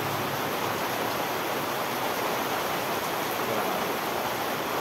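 Steady, dense heavy rain pours without pause, a continuous broadband hiss with no gaps or voices.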